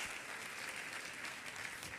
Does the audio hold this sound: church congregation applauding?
yes